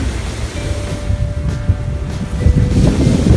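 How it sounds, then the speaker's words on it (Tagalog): Steady wind buffets the microphone while ocean waves rumble and crash nearby on the Batangas coast, building louder toward the end; no voices. "Narinig mo lang yung hampas ng alon. Saka yung hangin, mga ibon."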